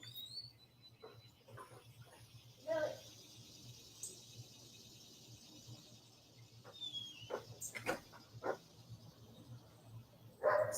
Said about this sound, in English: They're just going to keep barking.